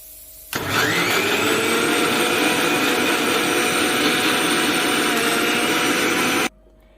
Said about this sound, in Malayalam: ഇനി തേങ്ങ നല്ലതുപോലെ നമുക്ക് അരച്ചെടുക്കാം.